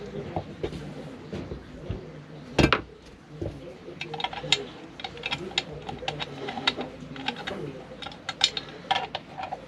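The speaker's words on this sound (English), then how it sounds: "So we're going to take and put our bolt back in." Metal clicks and clacks ring out as the bolt goes back into an M1A rifle, close and fairly quiet, with one sharp snap partway through and softer rattles around it.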